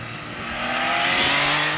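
MV Agusta Brutale 800 motorcycle with its 798cc inline three-cylinder engine, revving up in one rising, loud, steady roar that builds over a couple of seconds.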